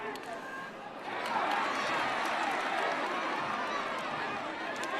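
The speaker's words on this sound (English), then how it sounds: "Hear the crowd. They like the effort from Aslanian." A stadium crowd roars and cheers at a Premier Lacrosse League game between the Philadelphia Waterdogs and Boston Cannons, the broad swell of noise rising after the first second and staying loud and steady to the end.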